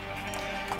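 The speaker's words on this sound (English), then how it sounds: "We have many sheep in the sheep farm." Sheep bleating in a Minecraft Bedrock sheep farm, a short overlapping bleat or two from a crowd of penned animals, moderately loud and close, with no talk.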